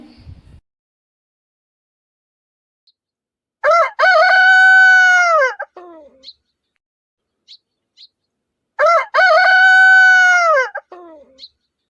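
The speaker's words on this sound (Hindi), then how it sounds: "मोहन की हर सुबह मुर्गी की आवाज़ सुनकर होती थी" A cartoon rooster crows twice, each a loud, clear, drawn-out cock-a-doodle-doo standing alone with silence between, a few faint soft clucks or chirps in the gaps.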